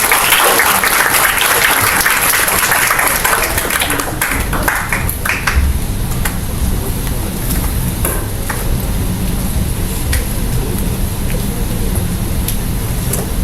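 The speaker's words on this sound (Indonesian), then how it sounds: "Bisa kita beri tepuk tangan yang meriah teman-teman semuanya." Audience applause rises at an Indonesian courtroom-justice teaching event and tapers over about thirteen seconds into a steady crowd murmur, with loud clapping at first, then scattered claps and a low hum of voices.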